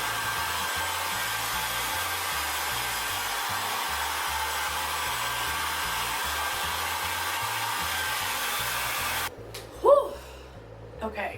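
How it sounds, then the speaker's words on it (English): A hair dryer on low heat whirs steadily for about nine seconds while drying curly hair, then cuts off, leaving quiet room sound with a brief breath or gasp. "we're going to use a blow dryer on low heat"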